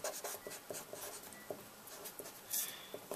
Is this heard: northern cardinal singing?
no